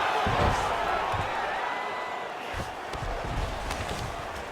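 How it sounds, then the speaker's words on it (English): A large arena crowd roars and cheers at a UFC middleweight fight as the fighters rise from a grappling exchange, a loud continuous wash of noise under commentary. "big pop from the crowd as they get back to their feet"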